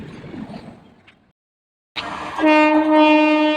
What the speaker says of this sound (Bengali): তিন নম্বর লাইন দিয়ে ছুটে বেরিয়ে যাচ্ছে কলকাতা সাইরাং এক্সপ্রেস